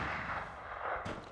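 Gunfire in a monster-hunting video game: a dense, sustained burst of shots rolls on without pause for about a second, then a sharper crack lands near the end, loud and close with no talk over it.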